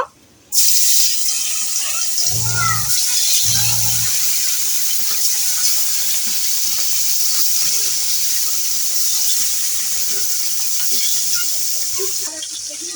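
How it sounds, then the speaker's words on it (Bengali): Fish frying in hot oil in a kadai, a loud, steady hiss of sizzling that starts abruptly and holds evenly, with two short low hums early on. "তেল গরম হয়ে গেছে মাছ ভেজে নেবো"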